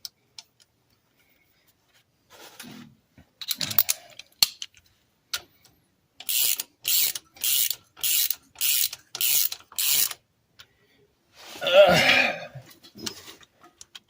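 A hand ratchet tightening axle bolts on a 1998 Ram 1500 pickup, a run of about seven crisp, evenly spaced clicking strokes, close and loud, with scattered knocks and a louder clunk afterward, no talk.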